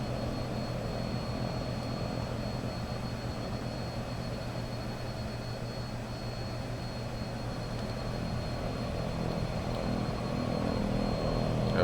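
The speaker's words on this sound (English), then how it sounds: "Just listen to the sound of the engines, just absolutely incredible." Twin propeller engines of an Embraer 110 in X-Plane 10 drone steadily and evenly, a loud continuous hum with a faint whine that swells slightly near the end, no talking.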